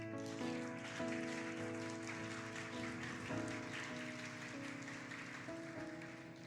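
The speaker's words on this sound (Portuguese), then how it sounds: "Aplauda ao Senhor." Church congregation applauding during a worship service, a steady wash of clapping over sustained music chords that continues for the whole stretch.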